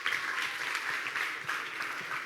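A church audience breaks into applause during a sermon, a thick continuous wash of clapping at even loudness from a sizeable crowd, heard alone without speech.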